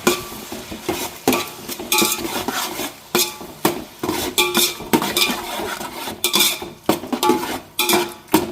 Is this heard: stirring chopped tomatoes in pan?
yes